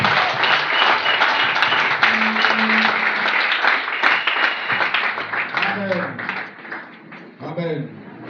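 A church congregation applauding together, dense sustained clapping with voices calling out over it, thinning toward the end.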